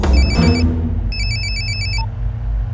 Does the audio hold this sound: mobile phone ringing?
yes